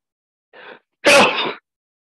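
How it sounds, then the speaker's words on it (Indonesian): A person sneezes up close: a short indrawn breath, then one loud, sharp burst of sneezing, with no other sound around it. "Mohon maaf, bersin."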